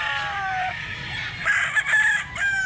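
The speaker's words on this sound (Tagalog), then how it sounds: "ang likot ng manok to mga idol" A rooster crows loudly and close by in Mantalungon, Cebu, a long drawn-out call with rising and falling pitch, no talking.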